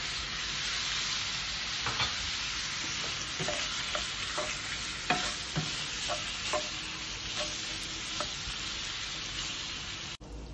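Polish sausage frying in a pan for a jalapeño snack, giving a steady close sizzle with a series of light utensil taps and scrapes as it is stirred.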